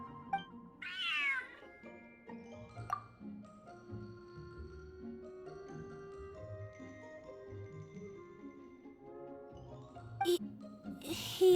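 Cat meows inside Genshin Impact, a short cluster of mewing calls near the start and another brief meow near the end, set over steady game music.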